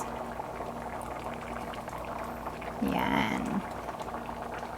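Pork menudo sauce bubbling in a pot, a soft steady boiling burble with a brief louder bubbling burst near the middle, under a person speaking.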